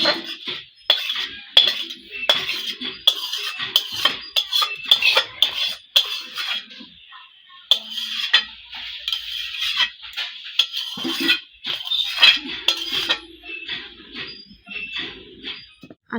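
A metal pot and utensils clatter and clink in sharp, irregular bursts as egg curry is taken off the stove in a home kitchen, with brief quiet gaps between knocks.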